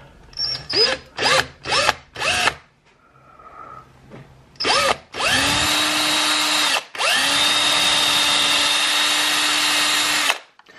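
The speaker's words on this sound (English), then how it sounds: "to make a definite mark that my drill bit will live in while I drill it" A power drill whirs in several short bursts, then runs in two long, steady, loud stretches, close by with a high whining tone.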